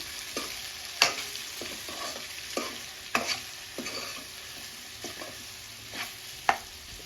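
A bitter gourd and onion curry cooks in oil in a pan on low heat. A soft, steady sizzle runs throughout, broken by scattered clinks and light stirring taps. Nobody speaks.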